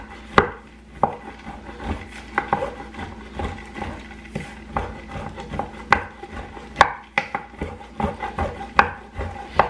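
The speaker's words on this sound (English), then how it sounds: "maybe chop these up a little bit" A knife chops food on a cutting board in a home kitchen, irregular sharp knocks at varying pace, close and distinct with scraping between strikes and no talk.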